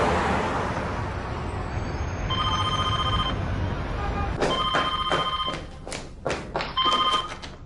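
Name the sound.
telephone ringing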